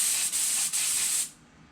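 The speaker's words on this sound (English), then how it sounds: "Check my spray pattern here." Airbrush spray gun test-spraying model paint, a close steady hiss in two short bursts with brief breaks, then cutting off into quiet.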